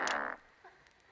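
A short comedic fart noise from the broadcast-editing video game Not For Broadcast, a single brief raspy burst at the start followed by faint trailing sounds.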